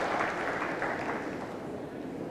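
Crowd applause at a 1978 Superstars swimming event as a swimmer finishes, a steady broad wash of clapping from a sizable audience at moderate distance, continuous throughout with no talk.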